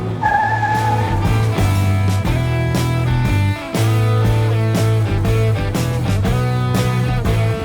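An Apollo AstroVette Corvette is driven hard, its loud, close engine revving steadily through changing tones, with tire squeal mixed into the sustained roar.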